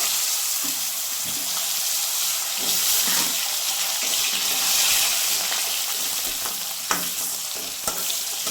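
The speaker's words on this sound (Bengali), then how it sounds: "এখন আলুটাকে ছেড়ে দেবো।" Potato pieces fry in hot oil for a katla fish curry seasoned with black cumin, giving a steady loud sizzle with a few stirring knocks and no talk.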